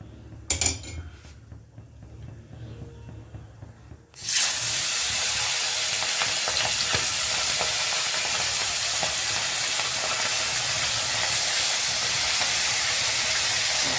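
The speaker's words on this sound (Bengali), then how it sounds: "দেখুন মাছটা ভাজা হচ্ছে" Shorse pabda fish are slid into smoking-hot oil, setting off a sudden, loud, continuous sizzle and hiss that holds steady after a few soft handling noises.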